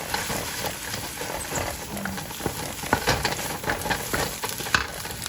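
Salted eggs frying in a hot wok, a continuous close sizzle with faint scraping and clicks of a utensil throughout and no talking.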